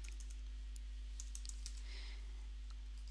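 Fingers typing on a computer keyboard, a quick run of light key clicks with short pauses, faint and close against a low steady hum, no voices.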